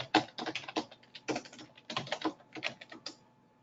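Search words typed on a computer keyboard, a quick irregular run of close keystroke clicks for a few seconds, no talk over it.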